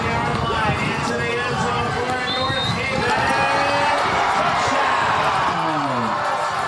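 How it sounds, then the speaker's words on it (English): A high school football crowd cheers after a touchdown in a Friday night game between Notre Dame and North Haven, a dense, steady roar of voices and hubbub throughout, with some shouting mixed in. "And that actually got the crowd riled up here."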